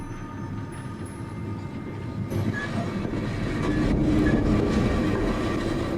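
Train rolling on rails in a Sherlock Holmes video game, a continuous low rumble of wheels and carriage with faint squeals, steadily growing louder and closer over several seconds, no voices.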